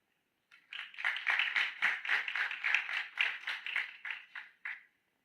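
An audience at a Bolivian construction standards event applauds in welcome, a lively clatter of many hands that begins abruptly, stays steady for about four seconds, then ends with a last few scattered claps.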